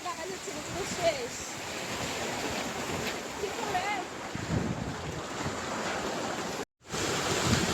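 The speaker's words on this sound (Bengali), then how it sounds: "দেখো কত লেভেলের বৃষ্টি হচ্ছে এখানে" Heavy rain and storm wind outside a window during a severe storm, a steady dense roar of downpour and gusts throughout, with one brief dropout near the end.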